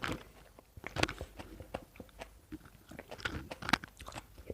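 A fresh apricot eaten with its thin skin on, heard as close, crisp bites followed by steady wet chewing and soft crunching, repeated through the whole stretch with no talking.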